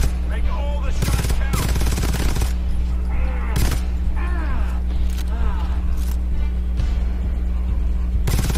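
Rapid bursts of automatic gunfire from the video game GTFO, with repeated shots in quick clusters over a steady low hum, plus a player's voice speaking in between.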